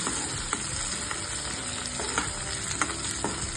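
Finely chopped onion with ginger-garlic paste sautés in hot oil for a spicy fresh-pea sabzi, giving a dense, steady sizzle up close with occasional light stirring clicks and no voices.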